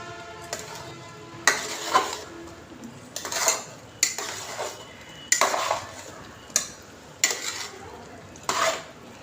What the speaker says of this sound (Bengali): আর দিয়ে দিচ্ছি ভেজে রাখা কাজু কিশমিশগুলো। একটু নেড়ে নিচ্ছি।